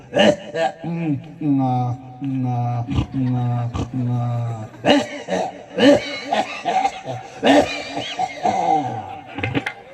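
During a live bharud folk performance, a voice imitates an old man's asthmatic cough with repeated strained, hacking bursts and wheezy drawn-out vocal sounds, loud and close.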